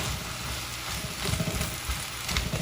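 Seasoned meat with garlic powder sizzles steadily in a pan while baked rotini pasta is being made, a constant close frying hiss with soft crackles and no talking.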